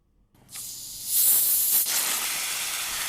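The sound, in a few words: carbonated drink bottle opened, fizzing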